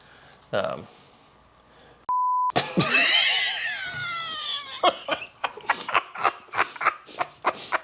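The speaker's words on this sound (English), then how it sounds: "I love the fact that we beep out stuff now" A steady electronic bleep cuts in briefly, then loud animated voices and laughter carry on right after it.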